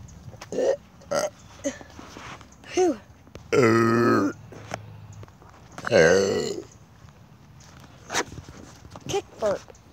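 A person burps while jumping: several loud, strained belches, two long and harsh, separated by short thuds of landing footsteps and grunts.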